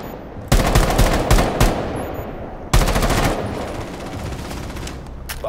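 Automatic gunfire from a weapon in Rainbow Six Siege: two loud bursts of rapid close shots, the first broken into several short volleys, each trailing off into echoing reverb.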